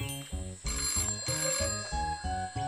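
A telephone rings with a rapid, repeating electronic trill, a series of evenly spaced bursts that stays clear and fairly close throughout.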